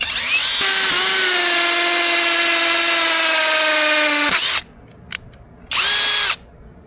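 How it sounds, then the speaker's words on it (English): Power drill boring a hole during a Tesla Model S sport seat installation, a loud whining motor run of about four seconds close up, then a brief pause and a second short burst. "So I'll locate it here and drill a hole."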